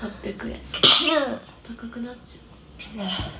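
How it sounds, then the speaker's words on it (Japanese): A single sharp sneeze bursts out close to the microphone during a casual livestream chat, loud and sudden amid ongoing conversational talk before and after it. "くしゃみしてしまった。"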